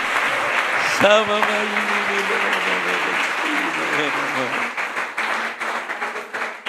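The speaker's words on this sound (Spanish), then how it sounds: "Denle ese aplauso más fuerte al Señor" A church congregation applauds during a sermon, sustained loud clapping filling the room while a voice sings and calls out over it, the clapping thinning toward the end.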